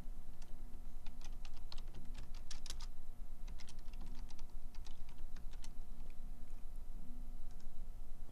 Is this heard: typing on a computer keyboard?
yes